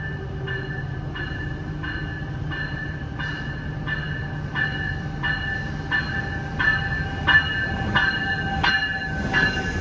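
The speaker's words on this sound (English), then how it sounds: "this is Amtrak 747 Capital Corridor train to San Jose" An Amtrak Capitol Corridor passenger train, a five-car set with F59PHI locomotives, pulls into Oakland Coliseum station. It gives a steady rumble and a regular series of ringing tonal pulses, probably crossing or station bells, growing slightly louder as it approaches.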